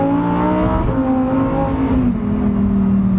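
A 2023 Lamborghini Huracan STO's naturally aspirated V10 roars loudly from close by as it accelerates, the pitch climbing through a gear change.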